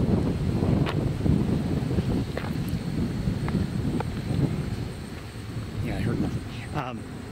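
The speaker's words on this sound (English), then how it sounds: "that wind is going over my ears and makes it harder for me to hear" Steady gusting wind buffets the microphone outdoors during a live birding stream, a low rumbling roar running the whole time, with faint bird calls near the end.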